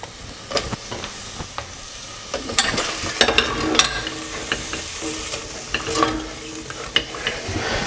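Shallots cook in a knob of butter in a pan, giving a soft steady sizzle with scattered scraping and stirring clicks from a utensil, close by and without speech.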